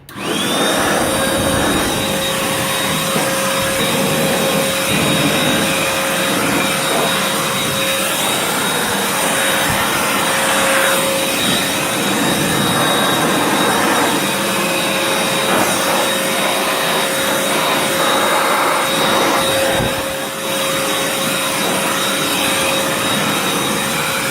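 A blower clears dust out of a Super Street Fighter 4: Arcade Edition arcade cabinet during a restoration, giving a loud, steady rushing roar that runs without a break for the whole stretch.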